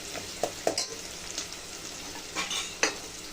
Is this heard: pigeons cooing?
no